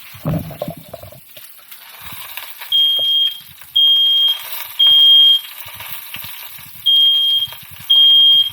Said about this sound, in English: definitely my fire alarm's going to go off after this